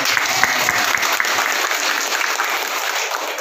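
An audience at a motivational session led by a professor claps loudly and continuously, with dense, sustained applause close to the listener.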